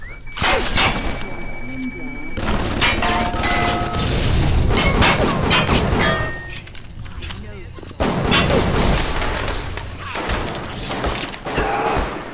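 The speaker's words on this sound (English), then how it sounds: "Ow, ow, ow, who's shooting me?" Gunfire and heavy impacts in BioShock Remastered, loud dense bursts of shots and booms over a busy game soundtrack, with a voice speaking in the mix.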